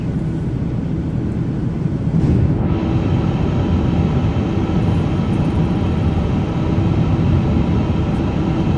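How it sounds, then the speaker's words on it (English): Airbus A350 flaps moving in Microsoft Flight Simulator 2024 give a loud, continuous low rumbling whine over steady engine and airflow noise, with a slight rise in the middle and no voices. "Don't you just love the sound of flaps on the A350?"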